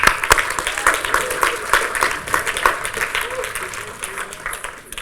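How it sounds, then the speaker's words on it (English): An audience at a student union annual general meeting breaks into applause. Clapping sounds close and fairly loud, then slowly thins out, with voices mixed in. "And round of applause, guys."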